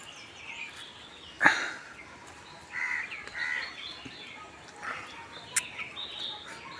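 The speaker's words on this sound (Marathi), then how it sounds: "कावळा काव काव करायला लागला आहे" A crow caws sharply once, then a few more caws and distant bird calls follow over a quiet outdoor background in Konkan woodland with mango and coconut trees.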